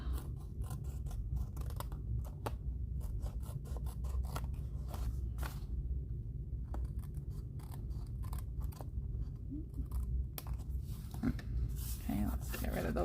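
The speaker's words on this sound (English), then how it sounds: "I've just got these little bits here to trim off. So I'm gonna go ahead and do that with my paper snips" Paper snips trim small bits off a layered card, giving a run of quick crisp cuts and scratchy rustles over a steady low room hum, close and fairly quiet.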